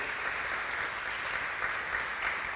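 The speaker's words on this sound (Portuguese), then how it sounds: "Dá uma salva de palmas para Jesus." A church congregation claps together in a dense, steady wash of applause that holds at an even level throughout, with no voices standing out.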